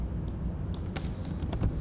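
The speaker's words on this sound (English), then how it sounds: "I'm typing here" Fingers tap quickly on a computer keyboard, giving a run of close, crisp keystroke clicks over a steady low background hum.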